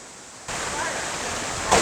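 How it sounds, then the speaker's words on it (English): A small side creek flowing into a river at a natural swimming area near Fredericktown, Missouri, gives a steady, close rush of running water that swells after a quieter opening moment. "This is a little side creek that goes into the main river there"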